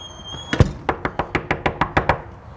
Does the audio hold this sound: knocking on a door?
yes